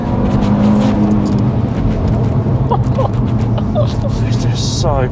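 A tuned Audi RS3 with around 500 horsepower accelerates hard, its engine roaring loudly and steadily from inside the car, with crackling pops toward the end and people talking over the noise.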